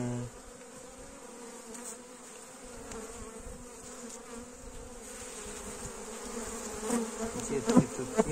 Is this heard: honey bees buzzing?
yes